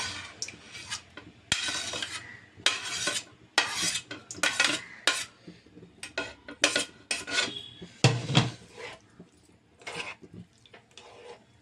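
White sauce stirred in a pan for an egg starter dish, with a utensil scraping and clinking against the pan in uneven bursts, close and fairly quiet, with no voices.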